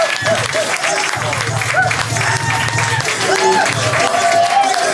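Audience at a poetry performance claps and cheers for a poet walking to the stage, a steady crowd roar with whoops, heard close and loud under a host's voice calling out to the room.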